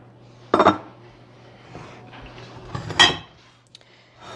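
Glass baking dishes knock and clatter on a kitchen counter while Parmesan chicken is being prepared: two distinct close, fairly loud clunks about two seconds apart over quiet room tone, with no talking.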